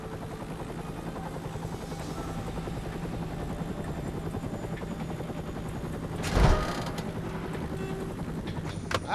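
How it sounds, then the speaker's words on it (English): A helicopter in the Stranglehold video game thrums with a steady, loud rotor chop throughout, briefly swelling with a sharp burst partway through. "I'm sending a chopper."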